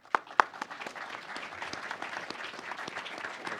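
Conference audience applauding to welcome a speaker at the 2014 AVC Conference: a couple of sharp near claps at the start, then steady, moderately loud applause from a crowd filling the room.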